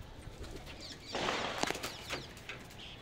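Pigeons coo softly at a rooftop flock feeding, with a brief burst of fluttering wing noise midway and scattered faint calls afterward.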